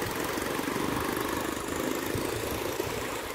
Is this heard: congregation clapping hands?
no